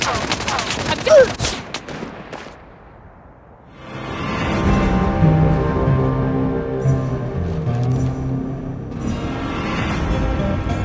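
Gunfire in a shooting video game: a quick burst of shots up front, a brief lull, then sustained rattling fire that keeps on loud and dense.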